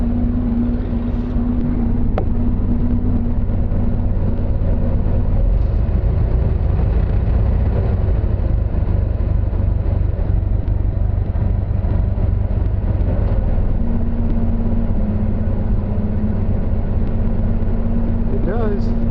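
A Ford Model T engine idles steadily and loudly throughout during a generator check, a low rumbling drone with a faint hum above it and occasional voices underneath.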